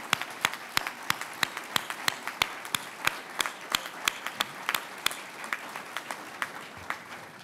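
Audience applause for Gold Star families at a Veterans Day breakfast, heard as sharp, fairly sparse claps at a steady rhythm that taper slightly over several seconds, moderately close.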